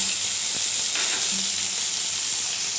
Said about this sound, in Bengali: এই তেলের মধ্যে আমি খানিকটা কালো সর্ষে দিয়ে দিচ্ছি